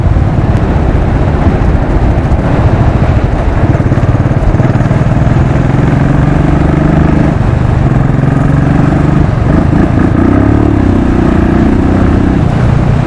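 A Royal Enfield Classic 500 motorcycle, a 2016 Desert Storm heavy cruiser, is heard at close range while it is ridden, with a loud continuous single-cylinder engine drone and wind rush throughout. The engine pitch shifts as it pulls.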